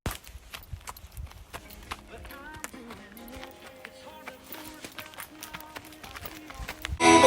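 Horses run with a quick, irregular clatter of hooves at a distance under soft music and faint background noise, with a louder burst right at the end.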